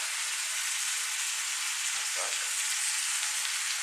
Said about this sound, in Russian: пока, значит, тушатся мои овощи